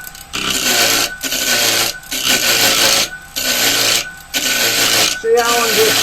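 A wood lathe turning a screw chuck with a tool cuts in repeated bursts of raspy scraping, each lasting about a second with short pauses between, loud and close, the motor running at higher speed.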